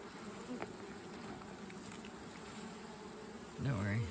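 Carniolan honey bees buzzing at an open hive, a steady faint swarm drone with individual bees flying close past the microphone, no talking.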